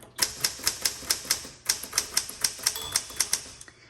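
Rapid, evenly spaced clacks of a 1964 Smith Corona Galaxie manual typewriter's keys striking close by, a brief pause midway, then the typing resumes at the same brisk pace.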